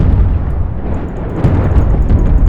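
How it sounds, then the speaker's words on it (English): An atomic bomb going off in the video game Worldbox: a loud, continuous roaring rumble with crackling bursts that fills the whole moment without pause. "Then you can go on to atomic bombs, which are incredibly powerful."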